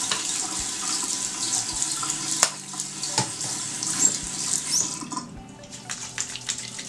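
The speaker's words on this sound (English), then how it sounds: "First I'll wet my face." Tap water runs steadily into a sink while face washing, with small splashes and clicks over the flow, which eases toward the end.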